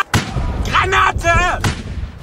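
In the Easy Red WW2 shooter, a grenade goes off with a sharp, loud blast, a second boom follows moments later, and shouting voices come between them.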